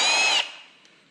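A Milwaukee M18 FUEL cordless hammer drill fitted with a carbide masonry bit whines loudly at high speed for under half a second, then winds down and fades to quiet.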